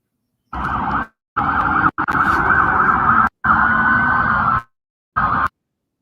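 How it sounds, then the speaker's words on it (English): Loud wailing siren in several separate bursts with short gaps between them, a sustained high tone held steady in each burst. "Like the sirens are so loud on there"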